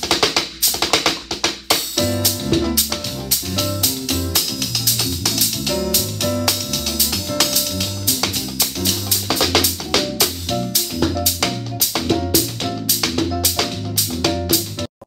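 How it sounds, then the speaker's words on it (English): A fast, busy samba groove played as a musical demonstration, with dense syncopated percussion hits and a driving bass line moving in a steady rhythm throughout, loud and close. "Now, samba's gonna be a little faster"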